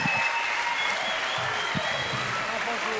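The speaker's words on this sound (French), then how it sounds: "mesdames, messieurs, applaudissements." TV studio audience breaking into sustained applause on a French talk show, a dense continuous wash of clapping with faint voices underneath.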